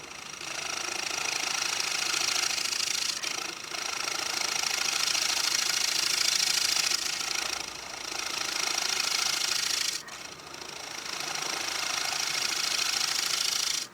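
A wooden bowl on a wood lathe chatters in the chuck jaws under too much tool pressure, a steady close motor hum with a rapid rattling buzz and a few brief dips, no voices.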